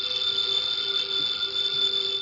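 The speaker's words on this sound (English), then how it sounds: "the ringing of that phone bell means mystery, adventure" A telephone bell rings continuously with a bright, sustained metallic trill, steady and fairly loud, with no voices, from an old radio drama.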